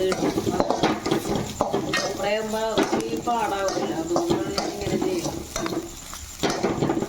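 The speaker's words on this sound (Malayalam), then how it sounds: "നാളികേരം വറുത്ത്" Crushed copra coconut roasting in coconut oil, stirred with a utensil that scrapes and clinks against the pan over a soft sizzle, close by, while a person talks throughout.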